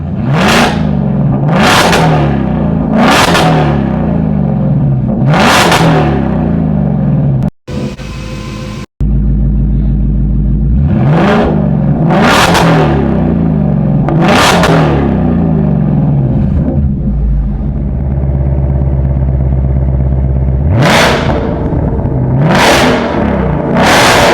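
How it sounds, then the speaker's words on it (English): A 2024 Shelby Super Snake GT500 with its resonator deleted revs repeatedly, each sharp, loud exhaust blip rising and falling in quick succession, with a brief gap and a steadier idle drone between bursts. "we were revving up the GT500 to do the sound comparison"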